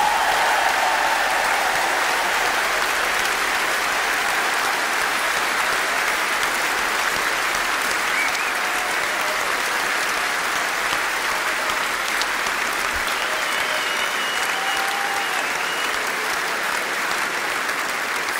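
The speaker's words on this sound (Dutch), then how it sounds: "Een applaus." A large concert audience applauds steadily and loudly throughout, a dense, even wash of clapping with no speech over it.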